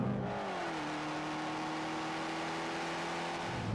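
Fiat 500 Abarth small turbocharged hatchback revving, its exhaust note a loud, close, sustained buzzing drone that climbs and then holds steady, with no talking.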